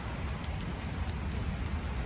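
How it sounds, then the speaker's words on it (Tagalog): Rain falling outside, a steady dense hiss of drops on surfaces, even and continuous at moderate level, with no voices. "Umulan siya."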